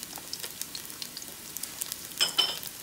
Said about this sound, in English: Now that my oil is hot, I'm gonna put my garlic in there. Stir that up, let it saute just a little bit.